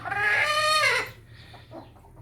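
A hen with chicks in a village lets out a loud drawn-out cackle close by, then quieter low clucks follow against a faint background hum.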